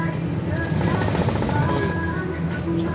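A helicopter's rotor drones steadily with a rough, pulsing throb, fairly loud and continuous, heard from aboard a TransJatim bus in Malang, with faint voices underneath.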